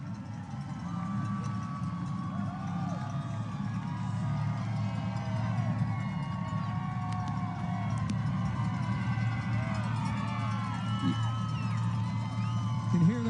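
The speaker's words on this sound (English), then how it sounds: "You can hear the crowd." A marathon crowd cheers a passing runner in a long, steady wash of distant roaring and whistling, with a faint siren-like tone weaving through and talk mixed underneath.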